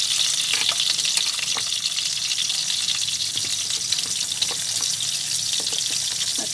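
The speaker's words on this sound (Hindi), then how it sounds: "परवल में मैं नमक हल्दी लगा दी हूँ, अब इसको इसमें डाल के फ्राई करेंगे।" Pointed gourd rubbed with salt and turmeric fries in hot oil for a Bengali-style potato and parwal curry, a loud, even hissing sizzle with scattered pops and light stirring; no voices.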